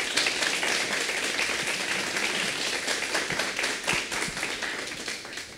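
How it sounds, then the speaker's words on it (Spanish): An audience applauds after a talk on active learning ecosystems, a fairly soft, even wash of many hands clapping that holds steady and tapers slightly at the end. "un aplauso para todas ellas"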